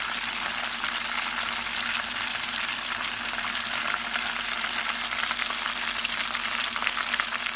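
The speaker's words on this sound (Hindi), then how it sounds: "मैरिनेटेड विंग्स को इस तरह दबाते हुए कोट कर लें और गरम तेल में डीप फ्राई कर लें" Coated chicken wings deep-fry in hot oil with a dense, even crackle and hiss that stays loud and constant, and no one speaks over it.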